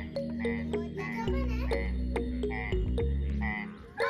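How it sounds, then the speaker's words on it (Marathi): A green frog croaks repeatedly at close range on a trek to Sagargad fort, the calls rapid and overlapping in a busy, rhythmic chorus over a low hum. "पहिलं हे बेडकं बघा."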